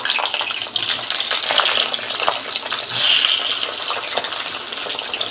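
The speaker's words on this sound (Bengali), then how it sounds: "তেলটা তুলে রেখে কালো জিরে ফোড়ন দিলাম, এবার বেগুনগুলো ভেজে নেব।" Eggplant pieces frying in hot oil tempered with black cumin give a steady, close, loud sizzle and crackle throughout, with a brief swell near the middle and no talking.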